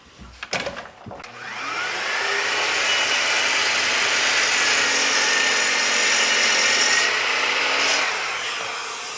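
A miter saw trims the end off a wooden board: a couple of clunks, then the motor spins up into a loud, steady whirring cut for several seconds before winding down, heard up close.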